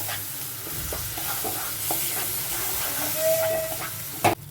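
A paste of onion, garlic, ginger and chili fries in a pan for Bengali malai chingri, a close, hissing sizzle with stirring scrapes and a sharp knock near the end.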